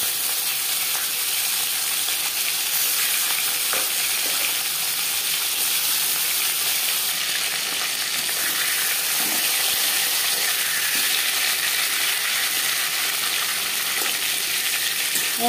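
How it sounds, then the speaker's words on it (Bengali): Snakehead fish head, rubbed with salt and turmeric, frying in a few spoons of hot mustard oil, with a dense, steady sizzle and crackle that runs loud and close throughout, with no talking. "4-5 চামচ সরষের তেল গরম করে নেওয়ার পর দিয়ে দিলাম লবণ হলুদ মেখে রাখা মাছের মাথা"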